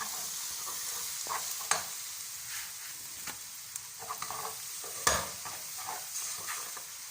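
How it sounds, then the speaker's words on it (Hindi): Powdered spices being stirred into a homemade vegetable curry in a pan, with scraping spoon strokes and scattered clicks over a soft steady sizzle. "डाल के इसको मिक्स करते हैं"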